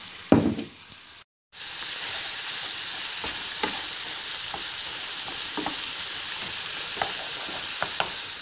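Seafood sizzles steadily in a hot pan with soy sauce, a bright continuous frying hiss close by, punctuated by light stirring clicks and scrapes after a brief opening clatter and pause.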